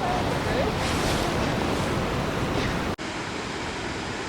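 A distant waterfall in Banff National Park produces a steady broadband rush, loud and continuous like surf, partly mixed with wind buffeting the microphone; the sound cuts abruptly near three seconds then resumes slightly muffled.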